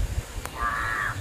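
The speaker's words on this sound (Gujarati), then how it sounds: "અને પક્ષી એવા મસ્ત બોલે છે." A single crow caws once, a clear drawn-out call close by in a morning mango orchard, after a brief sharp click and over a low background murmur.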